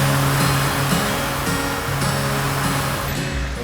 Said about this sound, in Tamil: வெள்ளி நீர்வீழ்ச்சியில பயங்கரமா தண்ணி போகுது